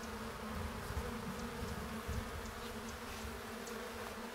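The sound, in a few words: honey bees buzzing around an open hive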